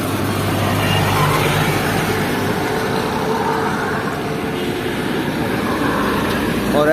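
Road traffic on the GT Road (NH5), which runs right beside Ghurila railway station in Pakistan, makes a steady, continuous broadband roar of passing vehicles at moderate loudness, with no clear breaks and no speech.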